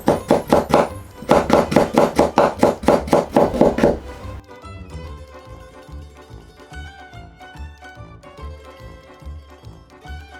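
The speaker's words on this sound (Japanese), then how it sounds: "人参が薄く切れたらちょっと重ねて少しずつずらしましょう。 で、このまま端から順番に切っていきます。" A knife chopping through stacked thin slices of carrot on a cutting board, first a quick run of loud rhythmic cuts, then softer, steadier taps continuing close by.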